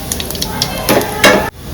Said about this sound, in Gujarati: તેલ આવી ગયું છે, હવે આપણે કરી લેશું વઘાર। જીરું નાખી દીધું છે,